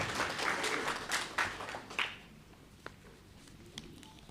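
Applause from an audience at a World Teachers Day event greets Mayor Lekwele, a dense patter of clapping for about two seconds that thins out into a few scattered claps and quieter room noise.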